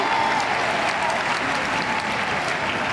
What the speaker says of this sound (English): Crowd rallying their team.